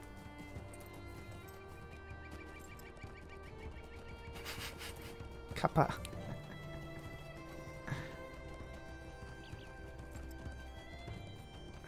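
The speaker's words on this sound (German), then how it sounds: "da stand ein Pferd auf der Weide" Horse whinny and clopping hooves in the Lord of the Rings Online game set in Rohan, a loud neigh in the middle over steady hoofbeats, with game music underneath and a brief spoken word.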